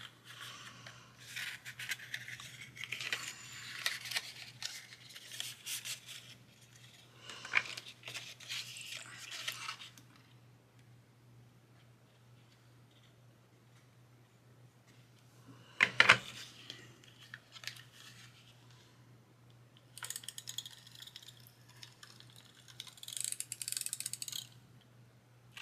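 Paper being folded into a DIY pencil case gives bursts of crisp crinkling and sharp creasing, close and intermittent, broken by quiet pauses over a faint steady hum.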